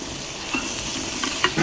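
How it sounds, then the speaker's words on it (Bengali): Dried fish (shutki) being stirred in a hot frying pan: steady close sizzling with scraping stirs of the spatula, a few sharper clinks near the end. "শুটকি দিয়ে এখন ভালো করে নাইড়ে তেড়ে নিই।"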